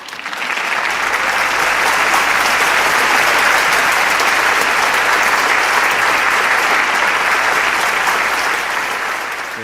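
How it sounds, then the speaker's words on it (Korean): Loud, sustained applause from a large conference audience after a youth performance, a dense wash of clapping that swells and holds steady for the whole stretch before easing slightly at the end. "멋진 공연을 준비해준 청년들에게 다시 한번 큰 박수"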